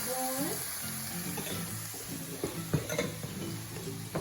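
Garlic and mushrooms fry in a pan with a steady sizzle, while a utensil stirs and scrapes, giving scattered clinks and taps against the pan; faint voices sound near the start.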